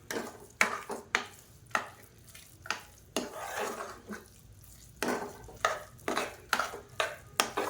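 Ghee-fried cashews being stirred into sweet sakkarai pongal with a spoon, giving close, repeated scraping and clinking strokes against the pot in an irregular rhythm, with no talk.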